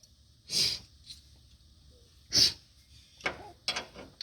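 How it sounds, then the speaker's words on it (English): Two sharp, close sneezes burst out about two seconds apart, followed by a few quick sniffs or snorts, with no talking. "Now that I sneeze, my nose is going to run"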